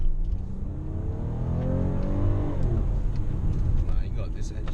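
A 2018 Toyota Alphard 3.5 engine pulls hard while turning around a parking lot, its rising engine note climbing steadily, close and loud, over a constant low road rumble.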